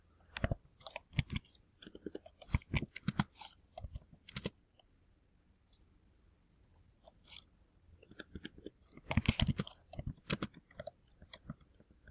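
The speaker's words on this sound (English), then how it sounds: "Then you want to type in the different multiple choice questions." Quiz questions being typed on a computer keyboard: close, quick bursts of key clicks in two clusters separated by a quieter pause, with no talking.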